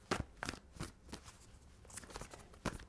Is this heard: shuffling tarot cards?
yes